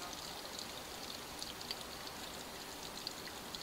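Water from a hose rushes steadily through a flush tool into an RV water heater tank after the anode is pulled, a constant soft hiss with small splashy flickers and no voices.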